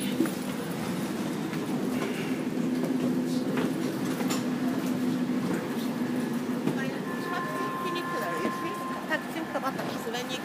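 Steady rumble and rolling noise of a tram riding through Istanbul, continuous throughout with a faint high tonal whine near the end; people talk over it.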